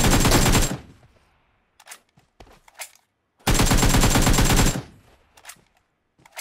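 Automatic gunfire from the mobile battle-royale game PUBG Mobile: two loud sustained bursts about a second long each, separated by a gap of quieter scattered shots and clicks, with no voices.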